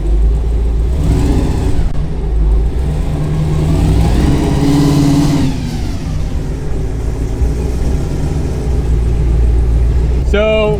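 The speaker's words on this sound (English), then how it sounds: "So we just got this Camaro running. We're doing a little bit of just testing because it didn't have race fuel in it." A high-compression Camaro engine running and revving during testing without race fuel in a garage, a loud steady rumble with rising and falling revs, and voices talking over it throughout.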